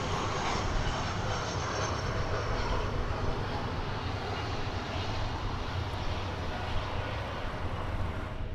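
An American Airlines Airbus A319 lining up on runway 18 left at Dallas Fort Worth airport gives a steady, broad engine roar that holds even and fairly loud throughout, heard from a distance with no talk.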